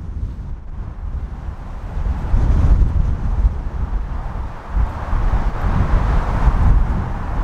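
Strong wind gusts across an open golf course, roaring and buffeting the microphone in a steady, rumbling rush that swells louder partway through.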